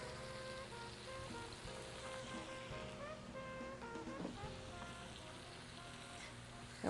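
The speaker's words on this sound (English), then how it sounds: "And we're going to saute that." Spaghetti squash sautéing in a pan with lemon juice, a steady broadband sizzle and hiss running close and continuous throughout, with faint scattered pops and no voice.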